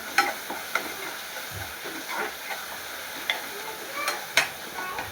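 Coarsely ground coriander, green chilli and garlic thecha sautéing in oil, a soft continuous sizzle with sharp clicks and scrapes from a spatula stirring the pan.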